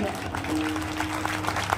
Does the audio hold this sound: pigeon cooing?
no